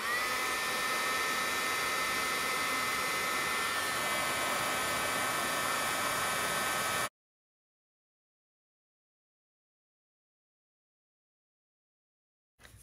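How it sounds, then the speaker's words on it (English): A heat tool blows hot air over a pop-up birthday card, making a loud, steady whirring hiss close to the mic. It cuts off abruptly after about seven seconds, and silence follows. "Grab your heat tool."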